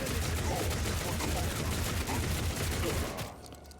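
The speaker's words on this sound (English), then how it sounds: "And then we're just going to go for a full barrage here." A full barrage of gunfire in the Warhammer 40k Rogue Trader video game, dense continuous volleys of shots rattling loudly for about three seconds before cutting off abruptly.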